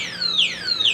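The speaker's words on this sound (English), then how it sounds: "Let's see if it has an alarm system." An Eahora M1PS electric scooter's alarm system sounds two rising-then-falling electronic chirps in quick succession, loud and close, with nothing else heard.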